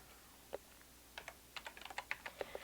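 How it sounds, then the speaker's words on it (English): Computer keyboard typing C++ code, a quiet close run of light key taps that starts sparse and then speeds into a quick irregular cluster, with no one talking. "I have to type correctly."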